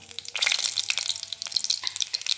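Cumin seeds hit hot oil and ghee and crackle in a close, busy sizzle with fast popping bursts throughout.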